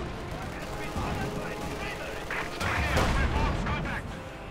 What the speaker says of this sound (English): Anti-tank gun there, got a hit on the Sturmgeschütz.